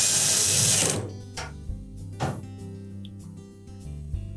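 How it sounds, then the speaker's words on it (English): A power screwdriver drives a screw into a Samsung dryer panel against its support bracket, a short whirring burst followed by a few clicks and light clunks of the panel, close up with no talking. "we'll push the panel up against the support bracket and secure it with at least 1 screw"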